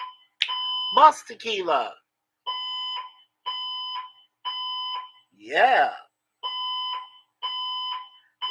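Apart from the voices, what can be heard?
alarm ringing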